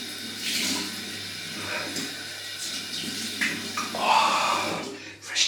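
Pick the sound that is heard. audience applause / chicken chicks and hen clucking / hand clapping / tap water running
tap water running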